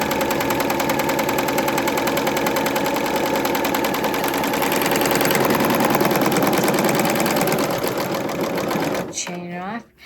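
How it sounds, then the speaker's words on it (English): A serger stitches a long 3-thread seam on a twisted headband, running loud, fast and continuous for about nine seconds before stopping abruptly, leaving a brief quiet tail. "the reason it's nice to do this long seam on a serger is because there's so much built-in stretch to it"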